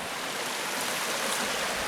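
A flowing stream in the Catskills wilderness gives a close, loud, continuous rushing wash of water. It stays steady for the short stretch, with no voices.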